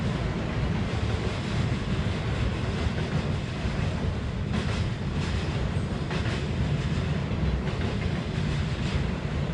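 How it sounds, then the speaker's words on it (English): A long train rolls across a vertical lift railroad bridge on a river near Lake Erie, a continuous heavy rumble with faint rhythmic clacking, steady and fairly loud throughout with no talking. "One long train."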